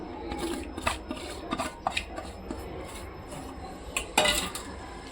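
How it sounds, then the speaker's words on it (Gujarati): Methi gota batter made with chopped fenugreek and coriander is stirred in a bowl, producing soft, close, irregular scrapes and taps of a utensil against the bowl with no talk. "એને આપણે બરાબર મિક્સ કરીશું."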